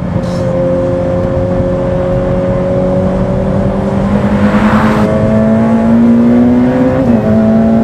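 A Ferrari F8 Tributo's engine revs loud and close, pitch climbing steadily through a long pull of acceleration before a brief shift and continued strong drone.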